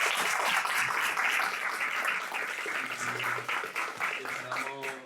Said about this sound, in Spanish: pedir un aplauso para nuestros invitados